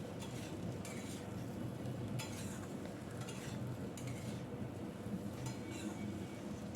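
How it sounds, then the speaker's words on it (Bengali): Chunky potato pieces stir-fried with spices in a pan make a soft, constant sizzle, with a spoon scraping and clinking at a slow rhythm throughout. "আলুগুলো এর সাথে মিশিয়ে একটু সময় আমি কষিয়ে নেব"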